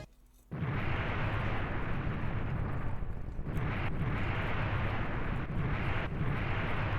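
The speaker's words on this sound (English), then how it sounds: "There's something about 16-bit explosions, they just hit different." A dense, roaring blast of 16-bit video game explosion noise that sustains for several seconds, with brief dips, like a long rumbling explosion.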